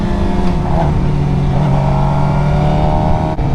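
Sport bike engine revving hard and steadily during a beginner's wheelie attempt, loud and close throughout with a brief dip near the end.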